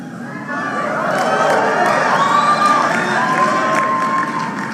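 A large crowd cheers and shouts at a political rally, a loud, sustained roar of voices with whoops rising above it and no break.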